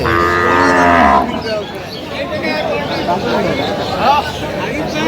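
A cow lets out a loud, long moo up close at a cattle market, then a busy hubbub of people chatting carries on afterward.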